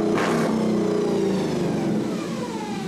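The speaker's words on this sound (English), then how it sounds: "The propane-powered engine of this ice resurfacer has been replaced with a Hemi" A Hemi engine fitted to an ice resurfacer revs up with a sharp roar, then its pitch slides down as it settles into a deep, throaty rumble close by.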